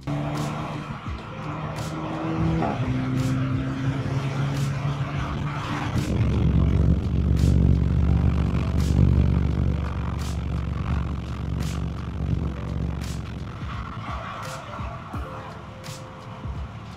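Toyota Supra MK5 with a manual gearbox, driven fast with the windows open: a steady low engine drone swells and holds for several seconds at speed, with buffeting wind noise over it and brief tonal shifts as gears change.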